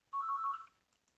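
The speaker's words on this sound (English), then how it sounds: "oh, that's my phone." A phone ringtone sounds once as a short warbling electronic trill, clear and close in a quiet room, fading quickly.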